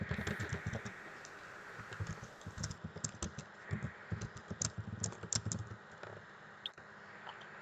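Quick, irregular clacking of keys on a computer keyboard as code is typed, close and fairly quiet, in bursts of rapid strokes with short pauses over a low room hum.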